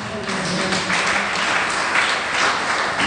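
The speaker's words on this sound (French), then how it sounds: "Applaudissez le Seigneur." A church congregation applauds during a worship service, a moderately loud wash of many hands clapping continuously for a few seconds.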